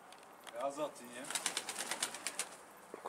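Pigeons being fed nearby give soft cooing calls and light fluttering, with a voice speaking and a run of quick rhythmic clicks or pecks.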